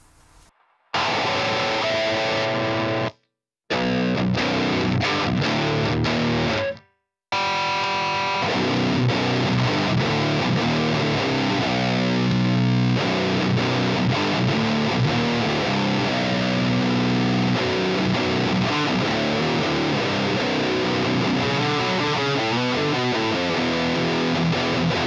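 Heavy distorted electric guitar riffs through an Electro Harmonix Metal Muff with Top Boost distortion pedal, loud and continuous, with two short silent gaps early on before a sustained stretch of chugging, saturated playing.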